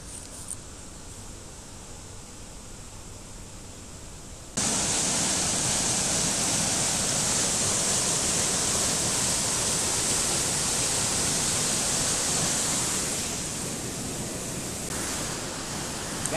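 A river swollen by a night of rain rushes down from the mountains in a loud, continuous roar of churning water, suddenly growing much louder after a few seconds and easing slightly toward the end.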